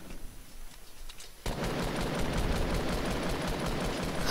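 Rapid automatic gunfire from a Fortnite Battle Royale match, a quieter stretch giving way at about a second and a half to dense, continuous bursts of shots that stay loud to the end.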